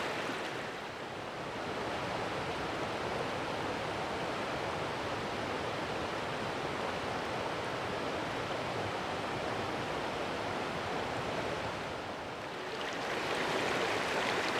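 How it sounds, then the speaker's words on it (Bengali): Sitakund waterfall roars as a steady, dense rush of falling water heard from a distance, with an even wash of noise throughout. "ওই যে দূরেই দেখা যাচ্ছে সীতাকুণ্ড ওয়াটারফলস।"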